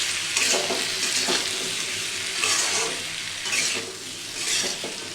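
Okra and potatoes frying in a pan with tomato and garlic, a steady loud close sizzle broken by periodic scraping stirs roughly every second, no voices.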